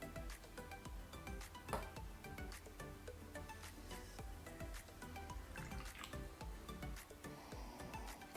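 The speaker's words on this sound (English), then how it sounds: "Let's pour some in the aroma cup." Bamboo Leaf Fragrance Dancong tea poured into a small aroma cup during a tasting, a steady trickling stream with light drips and splashes, close and quiet, no talking.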